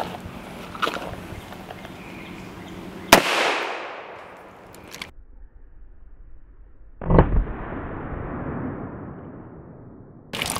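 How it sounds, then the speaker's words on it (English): A Chiappa Rhino revolver firing .357 Magnum full metal jacket rounds outdoors, with two loud, sharp shots several seconds apart, each leaving a decaying echo and faint background noise. "I'm going to be shooting some Full Metal Jacket 357 Magnum"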